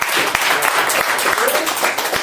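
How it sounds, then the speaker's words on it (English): A room of attendees at a business networking meeting gives a short round of applause, quick dense clapping heard close while someone talks over it. "Everybody give her a round of applause."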